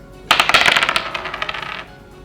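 Dice clatter across a table in a quick run of rattling bounces that gradually slow and settle, loud and close, lasting about one and a half seconds.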